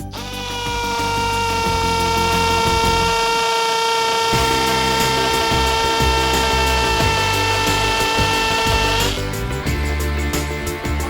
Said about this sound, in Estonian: Ja löökfunktsiooni demonstreerimiseks puurimegi siia tellisesse ühe väikese augu.